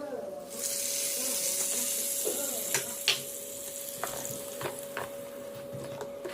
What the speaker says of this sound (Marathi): त्या चटणीवर तडका ओतून घ्यायचा